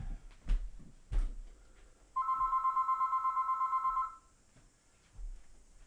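A telephone rings in a steady trilling burst for about two seconds, with a few soft thumps and knocks before and after it.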